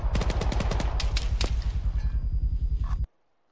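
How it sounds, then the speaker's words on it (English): An aircraft gun run strafes the ground in Arma 3, firing a rapid, loud, close machine-gun burst of evenly spaced shots for about three seconds before cutting off abruptly into near silence. "Gun run, over. Gun run incoming."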